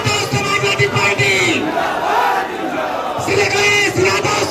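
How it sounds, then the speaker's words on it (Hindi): A rally crowd for Samajwadi Party leader Akhilesh Yadav in Ayodhya shouts and cheers loudly in a dense, continuous roar, with chanted voices rising and falling throughout. "जोरदार तालियों से स्वागत कीजिए, जोरदार तालियों से श्री अखिलेश यादव"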